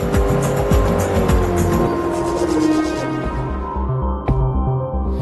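A Bugatti Veyron races in Forza Motorsport 3, its engine roaring loud and close with rising and falling revs and tire squeal, then fading toward the end after a sharp click.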